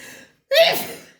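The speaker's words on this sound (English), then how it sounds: "I don't know why I'm sneezing." A single sharp sneeze bursts out after a brief breathy intake and pause, close and fairly loud, trailing off in a hissy exhale.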